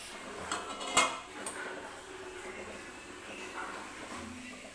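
A metal pressure cooker container is handled in a kitchen before making dhokla, giving a few light clanks and knocks early on, one sharp metallic clatter standing out, then quieter handling.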